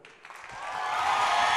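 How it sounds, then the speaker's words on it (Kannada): Applause from an audience starts thin and builds over a second into a full, sustained wash of clapping. "ಇಲ್ಲ ಅಂತಂದ್ರೆ ಜೋರ್ ಚಪ್ಪಾಳೆ ಹೊಡೀರಿ."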